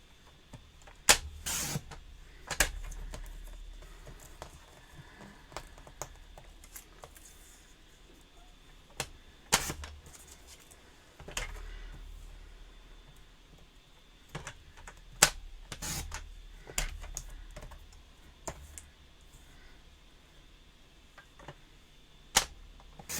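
A paper trimmer slicing paper for a rectangle gift box, heard as sharp, isolated clacks and snapping cuts spaced a few seconds apart against a quiet background, with no talking.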